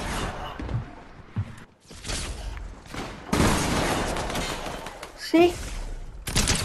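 Video game gunfire from a blue vs red rumble match, with loud bursts of shots at close range mixed with a voice talking over the action.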